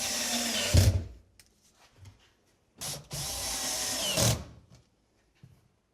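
A power drill drives screws while building a shop cabinet, whirring in short bursts, a couple of longer runs separated by quiet pauses and small clicks of handling.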